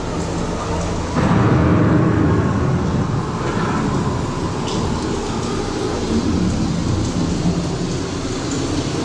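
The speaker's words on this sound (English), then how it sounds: "The approaching storm may seem violent and destructive to us, but to nature, it's a new beginning" Stormy ambience from a Walt Disney World Epcot attraction show: a steady, loud roar of rain and rumbling thunder that swells after the first second and stays dense throughout, with no speech over it.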